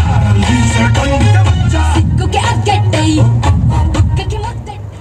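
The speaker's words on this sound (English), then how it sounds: "Now listen the audio sound in this vehicle." Music plays loudly through a car's built-in audio system speakers, a full, steady mix with a clear beat and strong bass filling the cabin for about five seconds before easing slightly at the end.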